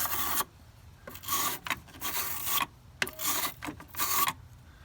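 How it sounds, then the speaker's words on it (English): A terminal cleaner brush scrubs the battery terminals of a Toyota 4Runner truck in short rasping bursts, about six rough back-and-forth strokes separated by brief pauses, close and fairly quiet. "always clean the new terminals on the battery, as they could have some light corrosion"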